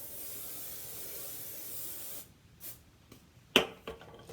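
Firm-hold hairspray sprays onto hair in one long, steady hiss for about two seconds, followed by quiet handling noises and a sharp tap.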